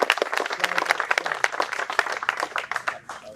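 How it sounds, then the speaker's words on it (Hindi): Students in a classroom clap loudly together, a dense burst of rapid hand claps that holds steady for a few seconds before thinning slightly, with a few voices mixed in. "एक बार सबसे ज्यादा जोर से तालियां बजाओ"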